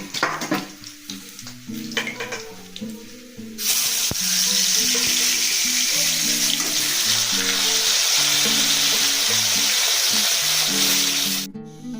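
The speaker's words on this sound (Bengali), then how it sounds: "এইভাবে প্রত্যেকটা মাছ ভেজে নেব" Bhola fish slides into hot cooking oil and sets off a loud, sustained sizzle that runs for several seconds before cutting off, with background music underneath.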